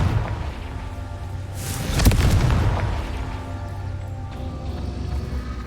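A Confringo blasting spell goes off in Hogwarts Legacy, a single booming explosion swelling to a peak midway over a continuous game ambience.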